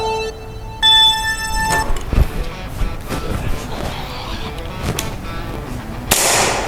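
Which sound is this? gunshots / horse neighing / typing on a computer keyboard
gunshots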